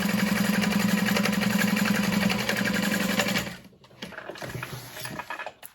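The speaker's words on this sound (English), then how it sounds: "Sewing along that top edge." Sewing machine running at a 4.5 stitch length along the top edge of a bag, a loud, even buzzing hum close by for about three and a half seconds, then a pause and a quieter restart.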